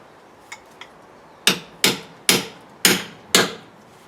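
An old, cheaply made axe head strikes wood in bowl carving: two light taps, then five loud, sharp blows spaced about half a second apart, close and unaccompanied by speech.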